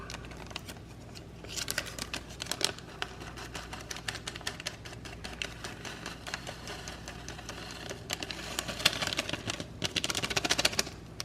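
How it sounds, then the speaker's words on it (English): Scissors snip through a crinkly plastic packet from Annie Chun's Pad Thai steamed Hokkien noodles in quick, irregular bursts of crackling and cutting, up close with no talking. "Luckily I've got scissors over here."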